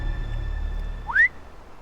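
A single short rising whistle in a Game of Thrones video game scene, cutting briefly above a steady low background hum and then fading.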